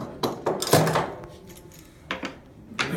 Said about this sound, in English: And I'm going to put a clamp over here.